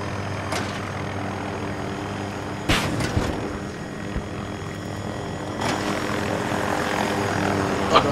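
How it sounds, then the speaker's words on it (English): A helicopter flies in the shooter game Battlefield 2042, its rotor and engine drone steady throughout, with a few short bangs and bursts of gunfire or explosions cutting in near the start and middle. "The helicopter's a little more sensitive to fly."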